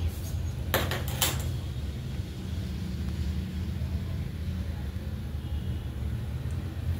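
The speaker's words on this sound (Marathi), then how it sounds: "कढई गरम करायला ठेवणार आहे मी." A kadhai (wok) is set down on a gas stove, giving two or three brief metallic clanks early on, then only a low steady burner rumble.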